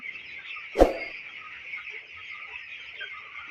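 On a farm, broiler chickens keep up a steady high-pitched chorus of chirps and clucks, and one louder squawk stands out nearby.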